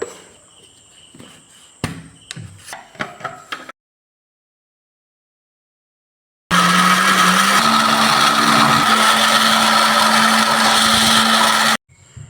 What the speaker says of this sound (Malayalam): ജ്യൂസ് അടിക്കാൻ നമ്മൾ പാൽ വെക്കുന്നുണ്ട് കാണാം